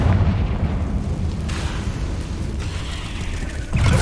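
A Confringo blasting spell from the Hogwarts Legacy video game goes off in a heavy, rumbling explosion with a dense low roar, loud and sustained, with a fresh surge near the end.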